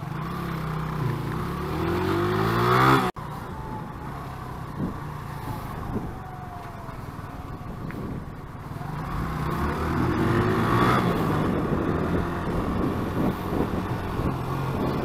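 Steady traffic rumble at a Nottingham junction as a Nottingham City bus drives through a red light, with engines droning and a vehicle pulling past close by, continuous and fairly loud, with no talking.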